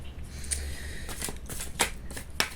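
Tarot cards being turned over one after another, a series of soft, quiet flicks and slaps of card stock against a surface, close and spaced irregularly.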